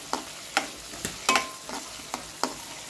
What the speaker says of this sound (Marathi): फिरवून घ्या.